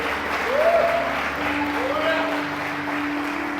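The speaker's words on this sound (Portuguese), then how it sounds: "Você pode dar um aplauso ao Senhor e um brado de júbilo?" Church congregation at an evening conference service applauding, with a sustained wash of clapping and a few voices crying out over it in joyful shouts.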